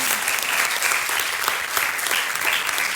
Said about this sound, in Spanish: Un aplauso a Paloma.